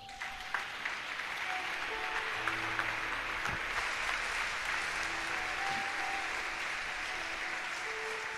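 A church congregation applauds together, a sustained, dense clapping that fills the room at a steady level.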